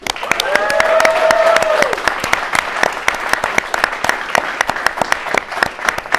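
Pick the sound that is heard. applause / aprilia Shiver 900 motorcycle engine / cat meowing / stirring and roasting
applause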